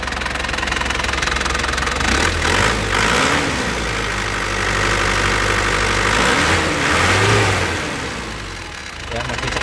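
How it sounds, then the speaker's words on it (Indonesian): A 2008 Isuzu Panther LS Turbo diesel engine idles with a steady, close, knocking clatter and a couple of swelling revs, while a person talks over it. "Oke, kita nyalakan yuk, kita nyalakan mesinnya ya. Sekali cegreng ya, langsung nyala"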